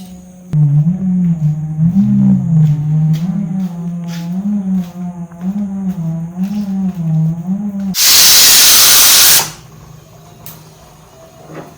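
A pressure cooker on a kitchen stove lets out a single loud, sharp hissing whistle blast for over a second, following a long warbling, wavering hum from the pot.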